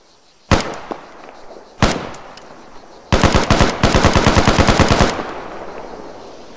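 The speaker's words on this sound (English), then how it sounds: "But most people know this as the SCAR. So this is a 308 caliber battle rifle." A SCAR Mark 17 .308 battle rifle fires in a game: two sharp single shots, then a loud rapid burst of about a dozen rounds, ending with a fading echo.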